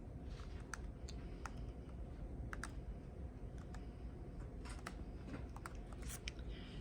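Light, sparse keystrokes on a computer keyboard as a student's name and ID are entered, soft irregular clicks over a steady room hum, with no talk.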